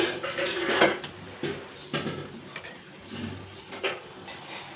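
Ingredients being sautéed in a pan on a home stove: a soft frying hiss under scattered clinks and scrapes of a spoon against the metal, a few sharper knocks spaced a second or so apart.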